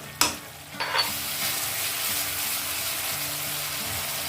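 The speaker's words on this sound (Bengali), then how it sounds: "এবার এটাকে একটু ভালো করে কষিয়ে নেব।" Spice masala sizzling and frying in a pan for doi katla, a Bengali fish curry, with a couple of sharp stir strokes near the start and then a steady, close hiss that runs on without talk.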